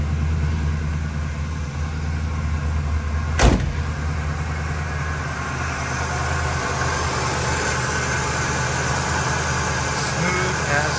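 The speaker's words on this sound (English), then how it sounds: "Let's give that engine a listen close up." A 1975 Oldsmobile Cutlass S engine idles close up with a steady, smooth low rumble, broken once by a short sharp clack about three seconds in.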